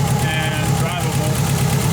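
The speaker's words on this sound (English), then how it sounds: "Might even pull this engine out, and it seems to be running pretty good." A Ford Festiva engine runs at a steady idle close to the microphone, with a continuous low hum and a faint rhythmic throb holding even throughout.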